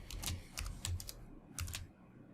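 Typing on a computer keyboard: a short run of separate, fairly close keystrokes with soft clacks and thumps in an irregular rhythm, then a brief final pair of key presses, with no talk.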